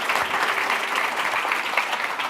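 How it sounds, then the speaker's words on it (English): A crowd at an event in Tempe, Arizona claps steadily, a dense wash of many hands applauding at an even level throughout. "Can we get a round of applause?"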